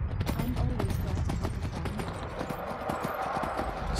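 Horse hooves clip-clop steadily in the Skyrim video game, a continuous rapid rhythm of hoofbeats close up throughout, with game ambience underneath.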